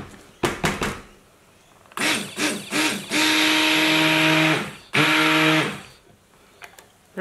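A blender whirs through a coconut milk soap mixture in a few short pulses, then runs in two steady, loud whining spins of a second or more, each cutting off abruptly.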